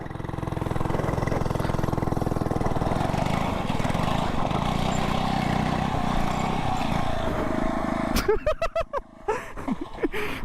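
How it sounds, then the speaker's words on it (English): FRP GMB100 mini bike engine running steadily and loud, close by, as the bike spins a burnout circle; after about eight seconds the sound breaks up into sputters and bursts as the throttle changes. "I wanted to see if I can do a little burnout circle"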